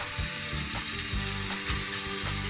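Sandwich filling frying with oregano and tomato ketchup, a continuous loud sizzle with soft stirring scrapes running through it, and no voices.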